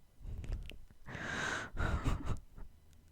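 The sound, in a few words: dog snoring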